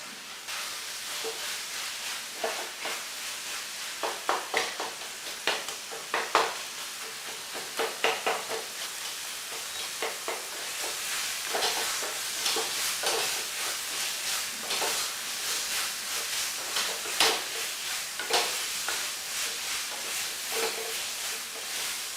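Tomatoes and masala sauté in a pan for a coconut-milk egg curry. A continuous close sizzle runs throughout, with repeated spoon strokes scraping and stirring the mixture.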